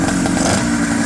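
A 1983 Honda Odyssey FL250 go-kart engine idles close by, a loud, steady, buzzing drone with no change in pitch.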